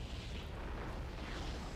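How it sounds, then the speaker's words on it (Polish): A dense, rumbling nuclear explosion on an aircraft carrier in the video game Crysis multiplayer roars continuously, loud and close, with heavy low-end and no voices. "A oto w moim wykonaniu wybuch na lotniskowcu"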